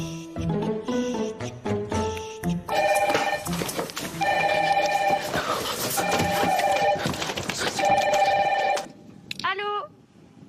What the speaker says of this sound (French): merci de passer le téléphone rouge à Maguette.